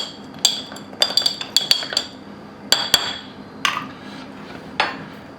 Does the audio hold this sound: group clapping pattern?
no